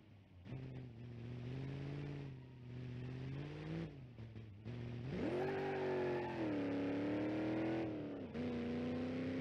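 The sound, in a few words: car transmission slipping while accelerating, BeamNG.drive video game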